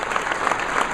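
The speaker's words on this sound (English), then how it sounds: "How about a big round of applause to these folks?" Audience applause at a community event, a steady wash of many hands clapping close and fairly loud for about a second, with no voices standing out.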